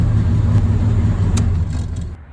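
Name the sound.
Jeep Comanche Eliminator engine idling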